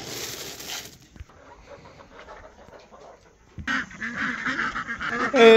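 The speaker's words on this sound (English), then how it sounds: "Hey, ducklings." Ducklings in a small homestead barn quack in a nearby chorus that fades into a quieter stretch, then returns loud and busy at the end.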